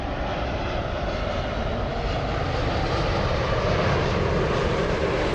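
Boeing 787 Dreamliner airliner at Los Angeles airport, a steady broadband engine roar that stays loud and even throughout, with no voices over it.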